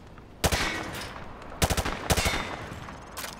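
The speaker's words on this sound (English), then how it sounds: "He sprayed bullets all over the damn place." Automatic gunfire sprayed in Call of Duty: Modern Warfare 2 Campaign Remastered, loud close bursts of rapid shots in three or four clusters with brief gaps between them.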